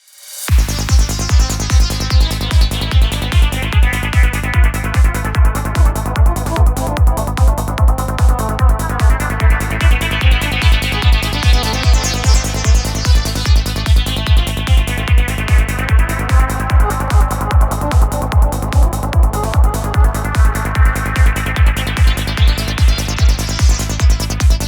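Tritium Max for Live audio effect with feedback delay, joined by a pounding steady kick and bass: a loud looping electronic groove with a sweeping filtered texture rising and falling in slow waves, continuous with no talking.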